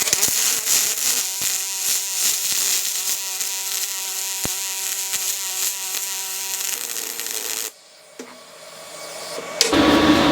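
MIG pulse welding on 1/8 inch 6061 aluminum with a YesWelder YWM-211P: a steady, loud buzzing arc crackle for about eight seconds with a fast pulsing rhythm, then it cuts off, leaving quieter shop noise.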